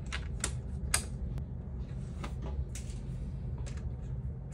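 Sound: Phillips screws being screwed into PlayStation 1

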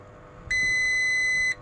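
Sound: multimeter continuity test beep

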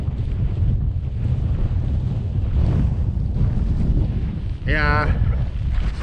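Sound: strong wind on a mountain campsite

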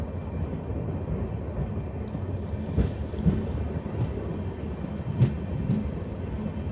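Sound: Lalkuan Howrah train running out of forest

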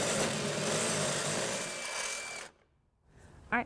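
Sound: drill enlarging a hole with a bigger bit

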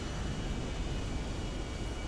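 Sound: airplane engine in video game GTA Online

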